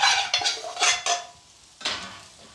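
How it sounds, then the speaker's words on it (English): Metal utensils scrape and clatter against a pan while spices such as red Kashmiri chili powder fry, in a series of sharp stirring strokes separated by brief pauses, with no talking. "literally just fry the rawness of those spices off for literally just 45 seconds"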